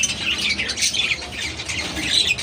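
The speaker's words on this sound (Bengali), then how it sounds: "আমাদের টিয়া পাখিদের দুজনের মধ্যে অনেক ঝামেলা চলতেছে" Two pet parrots squawking while they fight, a string of loud, harsh, shrill calls in quick irregular bursts, close and clear, with no talk over them.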